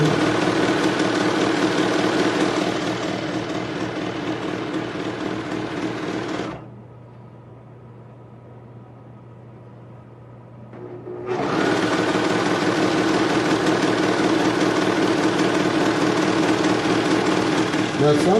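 A serger sewing machine stitches fabric with a loud, steady high-speed whirring hum that stops for several seconds, leaving a quieter low drone, then resumes at full speed; a voice talks under it.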